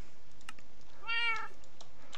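A single cat meow from the video game Minecraft rises clearly over a faint steady background, with soft clicks scattered around it.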